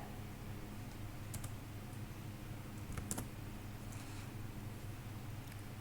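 Computer keyboard keys are pressed in a few faint, scattered clicks over a quiet background hiss.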